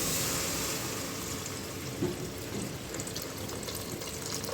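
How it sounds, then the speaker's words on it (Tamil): Water from soaked rice is poured into a cooking pot while making mushroom biryani, a steady, close splashing gush that runs unbroken for the whole stretch. "அந்த தண்ணி இதில் ஊற்றிக்கலாம்"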